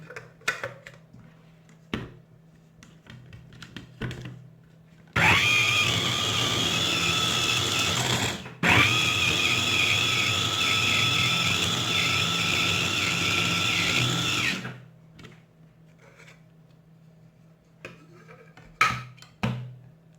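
A kitchen blender grinds fruit with a little lemon, a loud steady motor whir running about ten seconds with one brief stop, framed by quiet clinks before and after.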